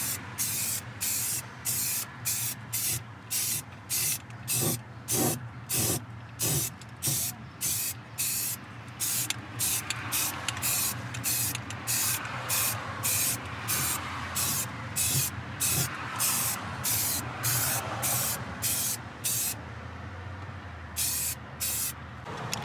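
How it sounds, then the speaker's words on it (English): Rust-Oleum primer sprayed from an aerosol can onto Jeep Wrangler Rubicon floor pans, a long series of close, loud hissing bursts in an even rhythm with short gaps between them. "I'm painting right over the other floor pan drain holes, which are right here."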